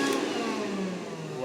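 A Rainbow E2 vacuum cleaner with a brushless motor runs at high speed, giving a steady, loud, continuous motor whine with a droning tone that holds unbroken from start to finish.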